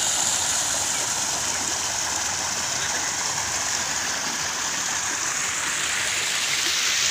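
Water rushes steadily at Lucknow Zoo, a dense continuous roar of a stream or cascade filling the whole stretch with no pauses.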